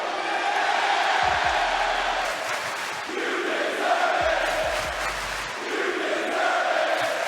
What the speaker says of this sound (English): Now they're chanting, welcome back.